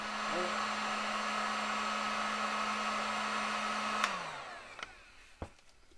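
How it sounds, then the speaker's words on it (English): A Harbor Freight heat gun blows steadily and loudly while shrinking heat shrink tubing on an HO scale model railroad layout, a constant airy roar with a low hum that winds down near the end, followed by a few faint clicks. "I'm going to shrink that tubing with a heat gun"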